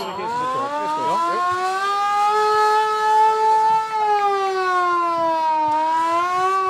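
A civil defense siren wails loud and steady, its tone slowly rising and falling over several seconds, sounding at a carnival street parade in Mechelen.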